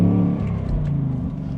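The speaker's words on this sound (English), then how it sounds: "you heard like this huge rumble from this engine" Deep, throaty engine rumble from a 2025 Ford Mustang GT convertible cruising at the speed limit, a steady low burble with a slight swell midway, heard close from inside the car.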